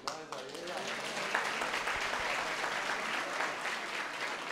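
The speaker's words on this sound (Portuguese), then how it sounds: "Dá uma salva de palmas para as irmãs aí" Applause from an audience at a lecture hall talk, steady, full clapping from many hands that holds evenly throughout.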